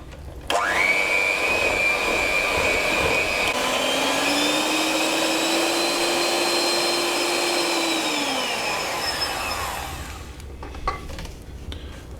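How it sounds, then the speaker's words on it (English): An electric mixer blends cupcake batter with milk and vanilla extract in a steady, close motor whine. It runs for about ten seconds without voices, then winds down and stops. "we're going to mix this now for 30 seconds, no longer than that"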